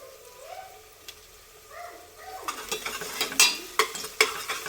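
Onions frying in a pan. A faint tonal murmur comes first, then a close sizzle rises with busy scraping and knocking of stirring, growing louder toward the end.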